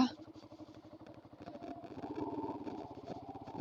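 A motorcycle being parked on a solo ride out to a hill, its engine chugging in a steady low idle close by for a few seconds.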